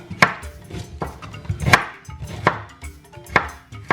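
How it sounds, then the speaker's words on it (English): A knife chops onion and ginger on a cutting board for Ghana-style grilled tilapia, sounding as sharp, close, irregular thuds spaced roughly every half second to second, with no talking. "So I'm cutting the onion and the ginger."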